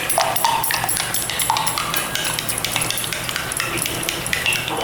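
Curd for curd garelu is stirred smooth in a bowl, a continuous close wet scraping with quick ticking spoon strokes.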